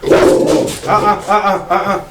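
Dogs bark and yip close by in a loud, uneven burst of several calls, with people talking over them.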